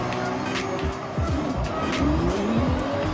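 A heavy 1930 Bentley 8 Litre drifts with loud, wavering tire squeals over a steady engine roar, the screeching rising and bending in pitch repeatedly throughout.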